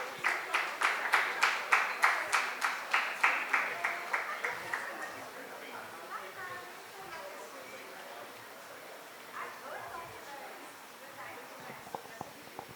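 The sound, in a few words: audience applause for the moderator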